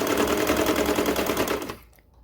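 Sewing machine stitching a leotard seam, a fast steady mechanical rattle running loud and close for about two seconds before stopping abruptly.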